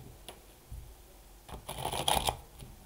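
A deck of tarot cards shuffled by hand, giving soft papery riffles and flutters that build into a louder burst of snapping cards near the end, close and clear with no talk.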